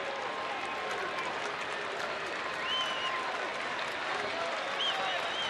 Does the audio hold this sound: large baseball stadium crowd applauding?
yes